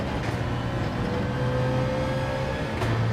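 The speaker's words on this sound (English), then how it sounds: "So I can hear a car behind me." A racing car in Gran Turismo 7 closes in from behind, its engine a steady low drone with a faint rising whine layered over constant road and tyre noise. No one speaks.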